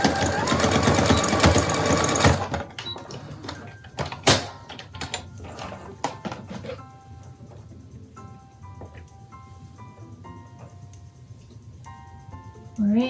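A home sewing machine runs in a loud, steady burst while stitching a fabric face mask with elastic and a pleat, then drops to quieter clicks and ticks of the mechanism and handling of the fabric.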